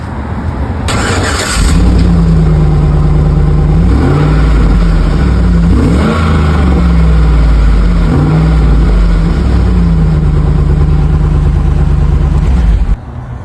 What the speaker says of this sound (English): we're going to start it up, see how it sounds through the muffler with no resonator